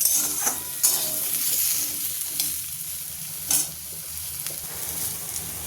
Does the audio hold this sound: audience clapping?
no